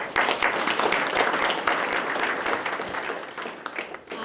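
A ceremony audience applauds city manager Tom Barwin at a police department promotional event, steady dense clapping filling the room for several seconds before tapering slightly at the end.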